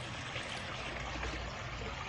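A koi pond waterfall trickles and splashes steadily at close range, a dense continuous wash of falling water with no breaks and no voices.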